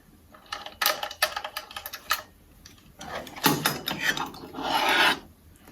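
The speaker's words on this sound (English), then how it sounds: "so to loosen it, we will take a wrench, pop it loose" Metal wrench working loose a fitting on a W+ double-seal pump, a series of close, rasping scrapes and clanks in irregular bursts, with a longer grinding rub near the end.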